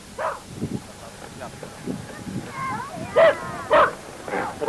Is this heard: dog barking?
yes